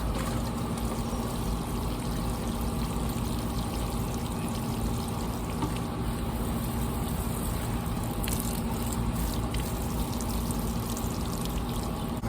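Water pours steadily onto the base of garden plants, including tomato plants, on a hot sunny day: a continuous close, fairly loud splashing stream with no talking.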